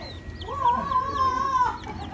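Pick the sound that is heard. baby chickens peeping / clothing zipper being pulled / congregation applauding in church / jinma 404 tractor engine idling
baby chickens peeping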